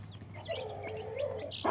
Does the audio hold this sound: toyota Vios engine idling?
no